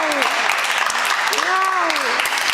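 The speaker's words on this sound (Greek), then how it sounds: "Ένα χειροκρότημα για τη Λίζα, ρε παιδιά, έλα!" Audience applause at a celebration event on Kos, steady dense clapping throughout with cheering voices and whoops rising over it.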